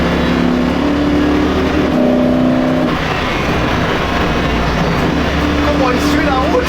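ABT XGT road-legal race car engine accelerating with a loud, steady roar and rising tones while on the road, someone talking excitedly over it throughout.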